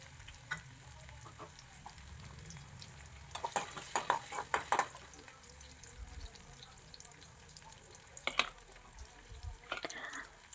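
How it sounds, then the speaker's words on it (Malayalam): Chopped ginger and garlic sautéing in oil in a pan, a soft low sizzle broken by clusters of clinking spoon-on-pan scrapes and taps, close and fairly quiet, with no talking. "അതൊന്ന് ചെറുതായി വാടുന്നത് വരെ ഒന്ന് വഴറ്റിയെടുക്കുക."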